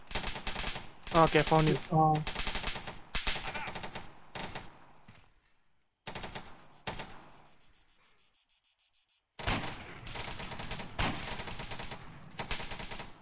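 Rapid bursts of Arma 3 gunfire crackle in short, sharp clusters separated by silent gaps, while players talk over the shooting.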